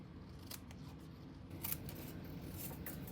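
Scissors trim a paper card for a shamrock design, giving a quiet, close run of quick snipping cuts with small crisp clicks of the blades, alone without talk.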